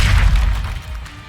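A Confringo spell bursting in Hogwarts Legacy, a loud, close, deep boom with a rumbling tail that fades over about a second.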